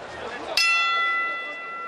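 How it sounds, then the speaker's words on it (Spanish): A boxing bell rings once with a sharp, bright strike to start the third round of a 12-round super featherweight title fight, its tone fading away after an arena crowd murmur and commentary. "Sonó la campana y ya estamos de nuevo en acción, estamos en el tercer round."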